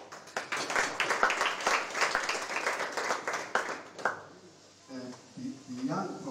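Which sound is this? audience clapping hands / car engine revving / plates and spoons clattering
audience clapping hands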